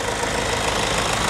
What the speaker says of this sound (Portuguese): Vamos escutar a melodia desse motor aqui pra gente ver?